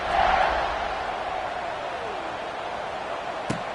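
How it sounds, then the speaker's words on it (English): Football stadium crowd during a college game, a broad steady roar that swells at the start then holds as a constant distant murmur, with a brief sharp knock near the end. "this crowd is buzzing after that last score"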